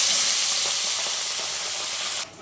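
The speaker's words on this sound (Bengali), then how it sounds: "এখন মা মাছগুলো ভেজে নেবে।" Tangra fish frying in hot oil make a loud, steady broadband sizzle that holds for about two seconds, then drops abruptly to a quieter hiss.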